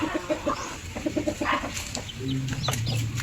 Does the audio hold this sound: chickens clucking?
yes